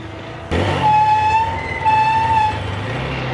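A motorcycle's brakes let out a loud, sustained high squeal that lasts about two seconds. Engine and road rumble run steadily underneath, and a sharp knock opens the clip.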